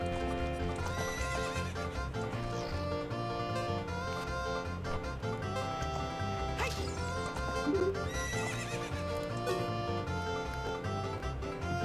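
In the video game Zelda: Ocarina of Time, a horse whinnies loudly several times over steady rhythmic clip-clop of hooves and backing music, a continuous game soundtrack with no talking.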